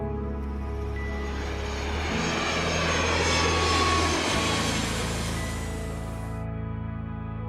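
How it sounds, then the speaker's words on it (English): An airplane passes overhead, a loud broadband engine roar that swells toward the middle and then fades, heard alone with no voices. "an airplane is very loud and has a high frequency."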